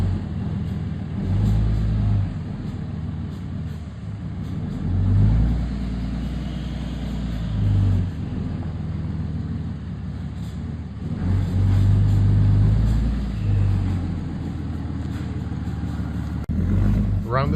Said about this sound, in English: Love the sound of that diesel.